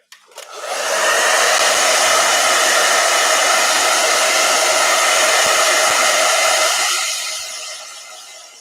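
A hair dryer switches on with a click, roars with a steady high-pitched whoosh for several seconds, then winds down as it shuts off.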